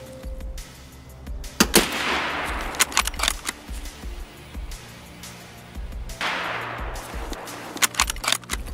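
Gunfire in Escape from Tarkov: sharp bursts of rapid shots and single cracks, some loud and close, with quieter stretches of background rumble between them and no speech.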